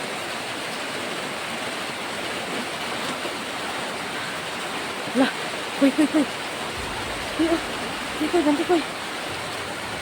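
Heavy rain pours in a constant loud hiss, with a few short voices speaking over the downpour partway through.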